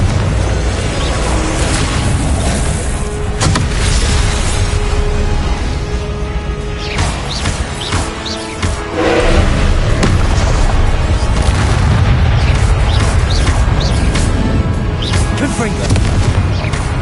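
Repeated Confringo blasting-spell explosions boom through a Harry Potter video game fight, loud dense bursts layered over a constant rumble and clatter of combat, with shouted spell voices mixed in.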